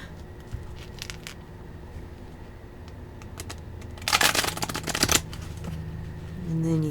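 Close-up riffle shuffle of playing cards, a dense one-second burst of flapping cards, followed by a softer shuffle and a brief low murmur.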